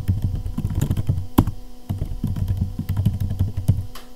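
Keystrokes on a computer keyboard as a PowerShell command is entered on a 2013 ThinkPad laptop, a steady run of close, quick clicks and clacks in bursts with brief pauses, heard alone with no talking.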